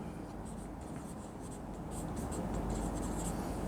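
A maths solution to a trigonometry exercise being written out, a steady close scratching of writing that continues without pause.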